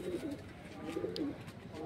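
Madrasi pigeons coo in a loft, a soft low repeated burbling, close and steady for a moment with faint background noise.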